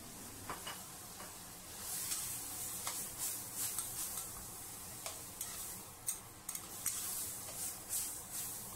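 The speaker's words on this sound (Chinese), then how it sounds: "再炒个30秒左右，下入青红椒和洋葱，再加入一点老抽上色" Diced chicken thigh sizzles in a wok while being stir-fried with green and red peppers, onion and a splash of dark soy sauce. Steady frying hiss runs throughout, broken by sharp ticks and scrapes as the spatula stirs, with no talking.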